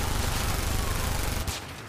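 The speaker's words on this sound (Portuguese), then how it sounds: "Vamos dar um tiro aqui." Rapid gunfire from the video game Call of Duty 4 Modern Warfare rattles in a dense, continuous burst that cuts off near the end, loud and close.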